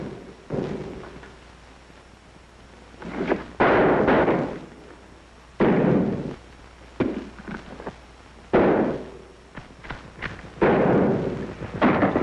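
Gunfire in a 1942 black-and-white wartime film, a series of loud, sharp shots and booming blasts spaced a second or two apart, each trailing off with a rumbling tail.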